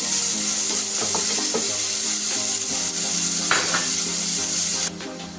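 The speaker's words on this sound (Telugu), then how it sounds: "ఇలా ఆనియన్ కొంచెం ఫ్రై చేసుకోవాలి" Chopped onion with a pinch of salt frying loudly in a hot pan, a steady close sizzle with occasional stirring scrapes, which drops off abruptly near the end.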